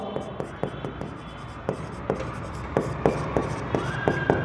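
Pen strokes of handwriting being done by hand tap and scratch at an uneven pace across the page, close and fairly clear, over a quiet room hum.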